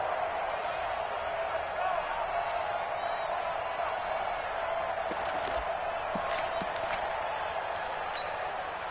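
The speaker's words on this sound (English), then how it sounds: "the crowd getting into it as we come up on a big third down" A video game football crowd roars in a steady, broad wash of cheering under a commentator's voice, with faint squeaks and thuds toward the end.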